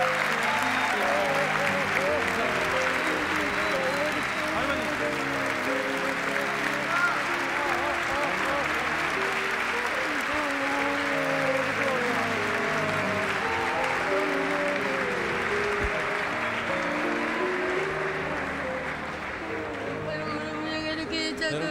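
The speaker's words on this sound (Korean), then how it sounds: "여러분 다시 한번 큰 박수 보내주시기 바랍니다." Sustained applause from a studio audience at a Korean TV show featuring military academy cadets, dense and steady for the whole stretch with musical tones and voices layered underneath, easing off slightly near the end.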